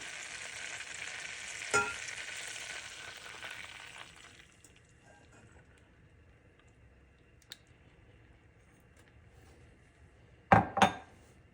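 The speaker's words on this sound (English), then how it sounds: "once your cream and butter begin to just start to simmer" Heavy cream and butter in a pan sizzle and bubble steadily for a few seconds, then settle to a quiet low simmer, with a couple of sharp utensil clinks.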